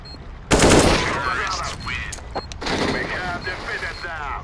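Rapid bursts of gunfire in Counter-Strike on the Overpass map during an esports match, a loud sustained volley that tails into scattered shots, with players talking over it.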